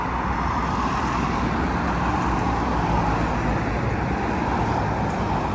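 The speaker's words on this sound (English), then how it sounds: "It's a reasonably busy road and the traffic does move quite fast" Continuous roar of fast traffic on a busy road in rural Thailand, cars and heavier vehicles blending into a loud, steady wash of engine and tyre noise with no voices.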